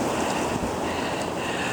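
Blizzard wind roars in a steady, broad rush with constant buffeting against the microphone, loud and unbroken, with no voices.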